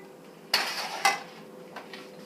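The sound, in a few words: lid being put on a cooking pot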